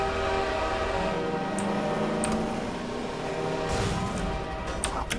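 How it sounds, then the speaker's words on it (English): A train rumbles past in the game Half-Life 2, a steady low mechanical drone with tonal hum that swells into a heavier noisy surge near the end, heard alone without talking. "hopefully there's no train coming this way"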